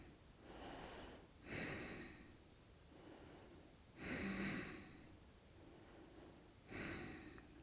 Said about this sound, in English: Exhale, softening the belly.